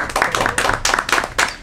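Small group clapping at a Lathrup Village DDA board of directors meeting, a sparse round of distinct hand claps in uneven bursts with brief gaps, close and fairly loud.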